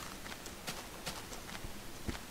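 Faint, distant horse hooves clip-clop in the video game Minecraft, a sparse run of light taps spread across the stretch beneath a hissy background.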